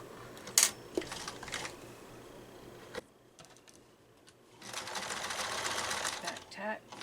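A sewing machine back tacking a seam on a fabric face mask, its rapid motor whir running in short bursts near the microphone with a pause between stitching runs and brief handling clicks.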